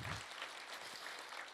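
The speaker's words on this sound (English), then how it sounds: "Give her a big round of applause." Brief applause at a budget engagement forum as a deputy mayor is introduced, a soft, fairly distant patter of clapping lasting under two seconds.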